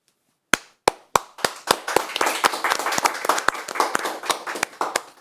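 Clapping toys snap together in sharp, close claps, starting with a few spaced single hits, then speeding into a fast, uneven run of claps with a roomy echo behind them.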